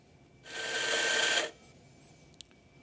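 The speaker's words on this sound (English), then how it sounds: "I've got the grinder set to 7 seconds for a double dose." An ECM S-Automatik espresso grinder runs for about a second grinding a dose of coffee beans, a steady whirring burr hum that starts and stops abruptly, followed by a faint small click.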